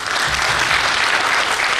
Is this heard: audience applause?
yes